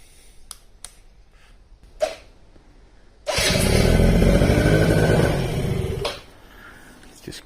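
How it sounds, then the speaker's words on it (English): Quadzilla Buzz 50 quad's small cold engine fires up after a few faint clicks, then runs loud and steady for about three seconds before cutting back to a quieter idle. "We'll just start it up."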